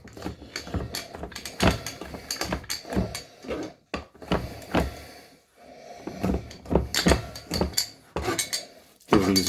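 A knife rough-chops on a cutting board in a kitchen, sharp irregular thuds and clacks coming in quick clusters with short pauses, close and fairly loud.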